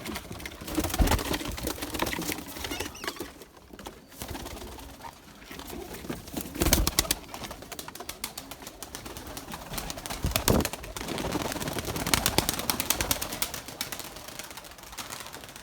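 Pigeons coo softly and repeatedly at a loft, with low rolling calls and occasional wing flutters and clatter scattered through a quiet background, no voices.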